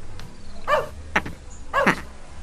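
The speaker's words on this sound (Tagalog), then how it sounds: "At tataulan ti aso iti arubaya." A dog barks a few times in a yard, sharp separate calls at moderate distance over low background noise.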